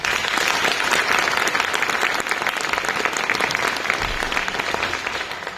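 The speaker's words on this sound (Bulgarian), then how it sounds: "Моля вашите аплодисменти за Даниел Спасов." Audience applause at a gala folk music concert, a full, dense roar of many hands clapping steadily throughout, loud and close, easing slightly toward the end.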